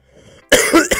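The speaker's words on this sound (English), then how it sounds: "I'm coughing and yawning so much" A single loud, close cough bursts out after a near-silent lead-in, with a second short hack right behind it, from a streamer playing Doki Doki Literature Club on a livestream.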